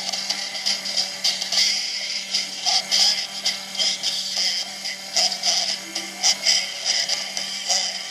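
A Lego record player driven by an Arduino and a servo motor plays with a steady hum beneath it, its mechanism ticking and whirring in uneven bursts, faint and close.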